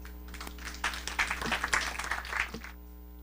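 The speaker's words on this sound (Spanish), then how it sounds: "Demos un fuerte aplauso" An indoor audience at an international forum on prior consultation and climate change claps for a couple of seconds, a soft, brief round of applause over a steady low hum.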